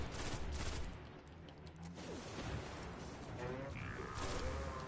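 Bursts of rapid gunfire from the video game Destiny fill a combat stretch during a strike mission, with dense overlapping shots and effects throughout.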